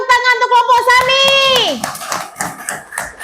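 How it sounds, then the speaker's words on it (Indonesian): Children in a classroom clap for a student group, a burst of scattered hand claps following a child's drawn-out sung or spoken phrase, with young voices mixed in. "Tepuk tangan untuk kelompok Sami."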